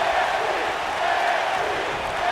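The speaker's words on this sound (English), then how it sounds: "As the crowd comes alive once again" Steady crowd roar from a virtual wrestling arena in WWE 2K19 during an NXT bout between Dean Ambrose and Kevin Owens, a continuous wash of cheering that holds at an even level throughout.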